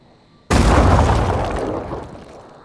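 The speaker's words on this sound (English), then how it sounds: "Someone's having fun with that grenade launcher over there." Grenade launcher explosion in the strategy game Phoenix Point, one sudden loud boom crashing in after a quiet moment, then a broad rumbling roar that slowly fades over about two seconds.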